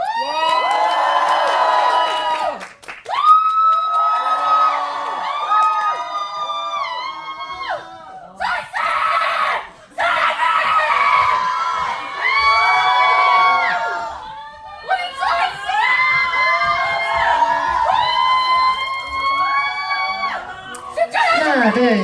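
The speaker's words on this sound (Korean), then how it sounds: "트와이스 분들 입장하실 때 큰 박수와 환호 부탁드리겠습니다" Theater audience at a TWICE stage greeting erupting in high-pitched cheering and screaming as the group enters, loud shrieks and whoops in repeated waves with brief drops between them.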